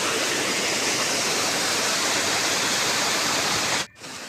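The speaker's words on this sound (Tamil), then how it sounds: "அதுதாங்க தண்ணி ஊற்றுற சவுண்டு கேட்குதுங்களா?" Yercaud's hidden falls pour in a loud, dense, unbroken roar of rushing water heard up close, cutting out abruptly for a moment near the end before returning more softly.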